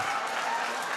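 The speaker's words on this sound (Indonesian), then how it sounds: "Walah, tepuk tangan." A short burst of audience applause, a dense wash of clapping hands at a gathering that stays steady over its brief span.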